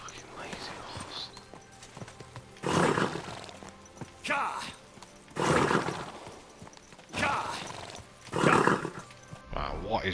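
Horse sounds from the medieval video game Kingdom Come: Deliverance II: repeated loud bursts of snorting and neighing at roughly two-second intervals over a low background hum, fairly close.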